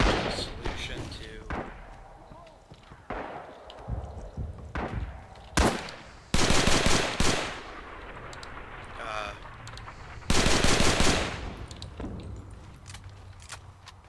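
The M1 carbine in the video game Rising Storm/Red Orchestra 2 fires in loud, sharp bursts and single cracks, with gaps between them, while someone talks throughout.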